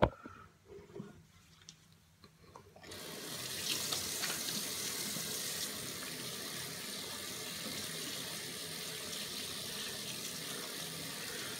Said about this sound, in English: Let me wash my hands and get all the items. Watch me wash my hands.